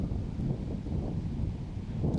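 Steady gusting wind buffets an exposed golf course during a disc golf tournament round, a continuous low roar with rumbling surges and no clear talk.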